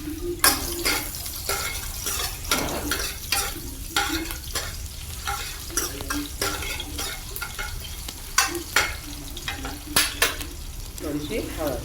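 Garlic sizzling in a hot tempering of oil with curry leaves and green chilli, a continuous close crackle punctuated by repeated stirring clatters from a spoon against the pan.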